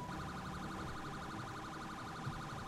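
A police siren in Grand Theft Auto V wails continuously with a rapid warbling pitch, steady and moderately distant, with no voices.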